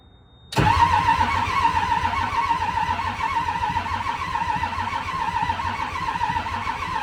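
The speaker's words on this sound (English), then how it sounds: "so let's try cranking it over here" A John Deere 290 excavator with damaged engine wiring cranks over, the starter kicking in abruptly and then a loud, steady churning drone that continues without catching.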